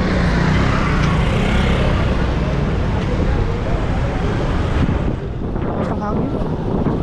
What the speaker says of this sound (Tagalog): Tapos ang hangin.